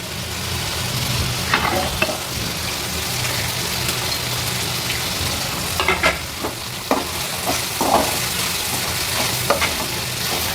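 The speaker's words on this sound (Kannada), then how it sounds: "ಇವಾಗ ನಾನು ಲಾಸ್ಟಲ್ಲಿ ಕೊಬ್ಬರಿನೂ ಹಾಕ್ಕೊಂಡು ಫ್ರೈ ಮಾಡ್ಕೊತಾ ಇದ್ದೀನಿ." Spices and grated coconut fry in a pan for sprouted horse gram sambar. A steady, close sizzle runs throughout, with frequent scraping stir strokes layered on top.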